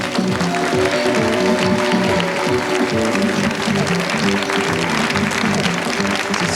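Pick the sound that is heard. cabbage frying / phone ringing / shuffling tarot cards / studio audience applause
studio audience applause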